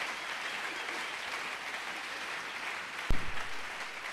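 A church congregation claps in steady, sustained applause at moderate distance, with a single low thump near the end.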